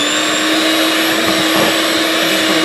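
Electric hand mixer with beaters whipping cream cheese for blueberry-filled sweet biscuits, a constant loud motor whine with a steady high-pitched tone, close up and unbroken throughout.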